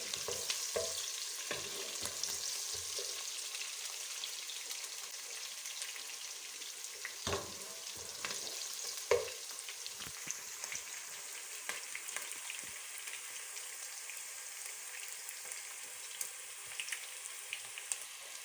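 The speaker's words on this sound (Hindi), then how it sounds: "हम प्याज तकरीबन भून चुका है अच्छी तरह।" Onions frying in a pan for veg pulao, a continuous bright sizzle with intermittent stirring clatter and scrapes, close and fairly quiet, without talk.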